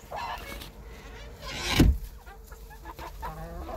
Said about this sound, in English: I'm in with the chickens.